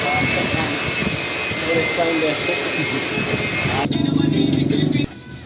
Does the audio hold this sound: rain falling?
no